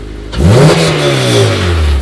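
A Honda Civic Si (8th generation) engine fires up and revs hard through a new Invidia Q300 exhaust, then holds a loud, throaty drone with a deep rumble close by.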